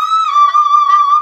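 A singer holds one steady, high sustained note in a head-voice technique with slight wavering, loud, close and unaccompanied, lasting just over a second.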